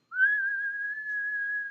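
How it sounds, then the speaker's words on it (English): One person whistling a single sustained, slightly wavering note for about a second and a half, clear and close in a quiet room. "So this is a person whistling, it's me whistling"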